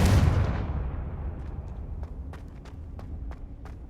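A Confringo spell is cast in Hogwarts Legacy, a blast that bursts loud and broad, then fades into a rumbling tail. A few sharp, distant clicks and impacts follow.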